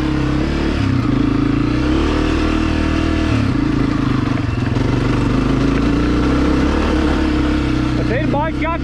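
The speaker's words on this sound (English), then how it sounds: "But that bike's got good power." Honda CRF250F fuel-injected 250 dirt bike engine revving on a trail, a loud continuous buzz rising and falling through the gears, with a voice talking over it near the end.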